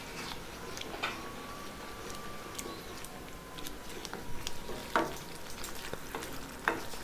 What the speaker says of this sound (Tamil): இப்போ நல்லா கொதிச்சுக்கிட்டு இருக்கு